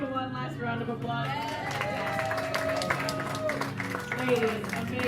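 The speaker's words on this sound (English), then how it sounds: "Let's give it one last round of applause." Audience at a cultural immigrant program event giving a final round of applause, a continuous wash of clapping and crowd noise, with people talking over it.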